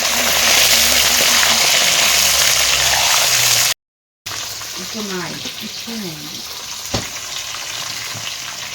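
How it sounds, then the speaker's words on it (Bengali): Meat dropped into a hot kadai, a loud, dense sizzle of frying that cuts out briefly before steadier frying resumes, with scraping stirs and a voice speaking over it. "এই যে আমার মেজদি আজকে মাংস রান্না করছে, মাংসগুলো ছেড়ে দিচ্ছে কড়াইতে, দেখতে পাচ্ছ।"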